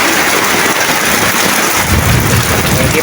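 Heavy rain pours steadily in a mountain home setting near a rising river, a loud, dense, continuous hiss close by, with a low rumble swelling underneath in the second half.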